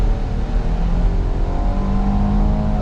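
Heard from inside an SUV on the road, the engine drones steadily while the vehicle accelerates, a continuous whirring hum with gently rising tones and no talking.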